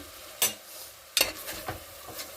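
A few short bursts of sizzling as a spice tempering hits hot oil in a pan for egg biryani, separated by quiet pauses.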